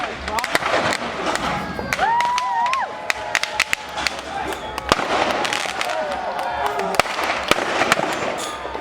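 Mortar shells explode in sharp, repeated cracks and bangs during an iron pour at Sloss Furnaces, a rapid scattered barrage over crowd noise and cheering, with people talking nearby.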